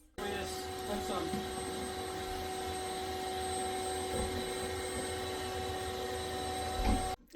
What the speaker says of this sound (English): Vacuum this mess.